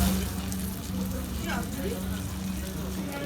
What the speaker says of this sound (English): This is famous chicken sizzler from Cleaneries. Wow, I just like the sizzling sound.